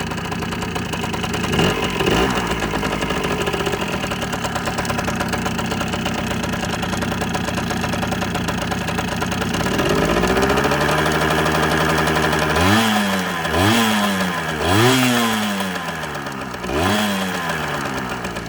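A motorcycle engine idles steadily while its alternator charges the battery, a loud continuous mid-pitched drone that later rises and falls through several quick rev surges.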